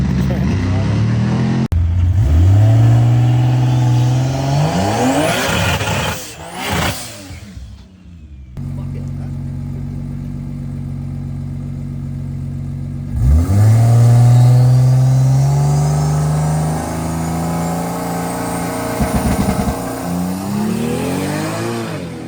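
A Toyota JZX105 AWD with a broken gearbox stuck in neutral, its engine revved hard in two long rising sweeps with a drop to idle between them, loud and close, with some voices mixed in.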